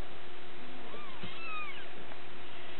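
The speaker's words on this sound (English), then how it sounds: "So these are the kitties." Kittens, including a small calico, mew softly indoors with a few thin, rising high-pitched cries over faint background hiss and low hum.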